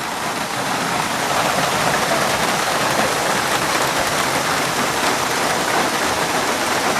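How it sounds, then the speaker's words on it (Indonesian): Steady, loud, dense rain pours continuously without a break, a broad hiss close by with no voices. "Hujan-hujan gini ya."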